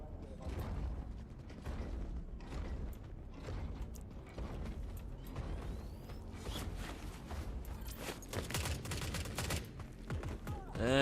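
Gunfire from the video game The Forever Winter comes as bursts of rapid shots and mechanical clatter, fairly faint and continuous, with a few louder volleys toward the end.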